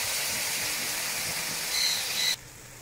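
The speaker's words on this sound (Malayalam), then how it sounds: "അപ്പോൾ അതിലേക്ക് ഇഞ്ചി ഇട്ട് ഇഞ്ചി ഒന്ന് മൂപ്പിക്കുക." Ginger, garlic and green chillies frying in a pan for Kerala-style chicken perattu, a steady loud sizzling hiss that cuts off abruptly near the end, with no talk.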